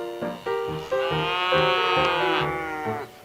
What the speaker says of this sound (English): Oh, those are all little calves.